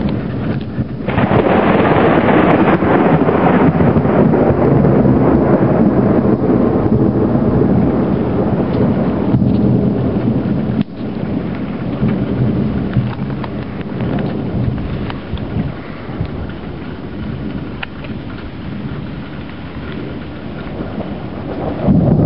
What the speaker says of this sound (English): big storm. I should be in the basement.